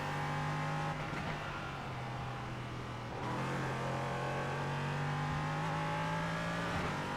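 An LMP3 prototype race car engine in the iRacing simulator drones steadily and revs through gear changes, holding a sustained tone with brief shifts, with no talk over it.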